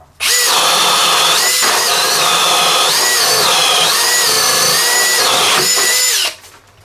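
A large premium hammer drill runs loud and steady at high speed for about six seconds, its whine shifting pitch slightly mid-run before spinning down.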